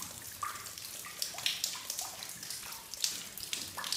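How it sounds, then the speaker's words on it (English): Spring water pours from a pipe drilled into rock inside an abandoned mine, a soft steady trickle broken by irregular splashes and drips, faint and echoing, with no talking. "They have a pipe just drilled into the rock where there's a spring, and there's a valve here where they can get water straight from the mountain"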